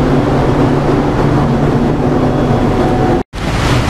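Tsudakoma air jet loom and its air compressor running in a textile weaving mill, a loud, steady, continuous mechanical drone that drops out for an instant near the end.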